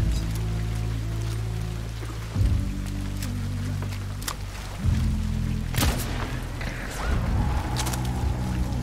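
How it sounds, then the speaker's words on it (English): Gunshots in the video game Hunt: Showdown, several sharp booming cracks at irregular intervals over a low, droning game ambience, fairly loud with distinct thumps standing out from the background. "Somebody else is shooting at him."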